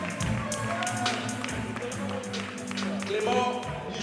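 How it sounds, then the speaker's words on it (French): An audience at a comedy awards ceremony in Kinshasa applauds steadily, a soft mass of clapping with some crowd noise mixed in, at moderate level throughout. "Allez-y, applaudissez, applaudissez."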